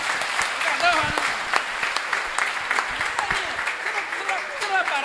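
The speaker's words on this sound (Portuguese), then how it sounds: "Você pode aplaudir ao Senhor?" Church congregation clapping during a Sunday worship service, a steady spread of many hands applauding together at moderate loudness, with voices calling out over it.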